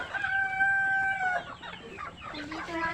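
Farm chickens and young birds in a coop: a rooster crows clearly near the start, followed by overlapping clucks and chatter from the flock at close range.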